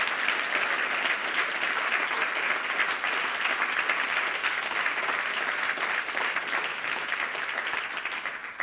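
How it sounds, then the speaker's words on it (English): A large audience at an apprenticeship awards ceremony gives the finalists a sustained round of applause: dense, steady clapping that holds at full strength for the whole stretch and eases only slightly at the end. "we need another significant round of applause for all our finalists"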